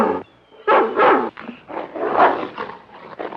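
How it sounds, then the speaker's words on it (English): A dog in an old film barks and growls close up in a few loud, throaty bursts with short pauses between them. "Oh, that dog, it gives me the jitters."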